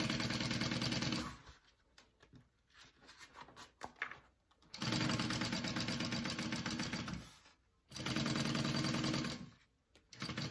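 A sewing machine stitches a handbag in three loud, steady runs of whirring, separated by quieter gaps with light handling clatter.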